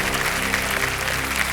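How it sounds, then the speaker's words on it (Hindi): A studio audience claps at a game show, steady dense applause held at full strength the whole way. "जोरदार तालियां बज जाए एक बार।"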